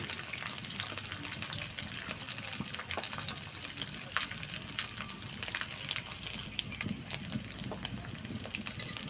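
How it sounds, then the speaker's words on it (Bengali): Dried tengra fish fries in a pan with a steady, dense crackling sizzle that carries on close and unbroken, with faint stirring scrapes now and then and no voices. "শুটকিটাকে ভালোভাবে ভেজে নেব যেন কাঁচা ভাবটা চলে যায়।"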